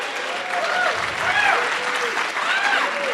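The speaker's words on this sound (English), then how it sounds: "How about a round of applause for giveaway guy?" Audience applause from a crowd at a JavaScript developer meetup, steady clapping that runs through the whole stretch, with some voices cheering over it.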